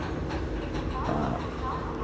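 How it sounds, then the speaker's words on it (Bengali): A passenger train leaving Howrah station rumbles steadily and fairly loudly for a brief moment, heard from inside the carriage with faint voices in the background. "আমাদের ট্রেন ছেড়ে দিয়েছে হাওড়া স্টেশন থেকে।"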